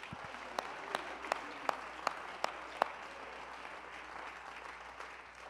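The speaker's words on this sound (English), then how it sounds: "Clap your hands." A church congregation claps along during a Pentecostal-style sermon, sharp in-time claps in a steady rhythm over a faint room wash, fairly quiet and distant.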